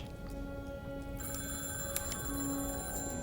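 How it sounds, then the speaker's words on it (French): A telephone bell rings steadily and continuously at moderate loudness, a bright repeated ringing tone over a faint background, with no one speaking. "c'est le téléphone"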